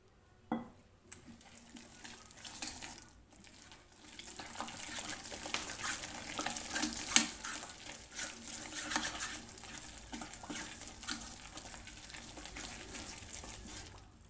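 Fenugreek fritter batter thinned with extra water and whisked: a faint, continuous wet swishing with scattered light clicks against the bowl, after a couple of sharp knocks at the start.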